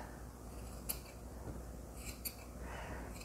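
Scissors trimming the yarn loops of a punch needle piece to an even height, a few faint snips heard close up against a quiet background.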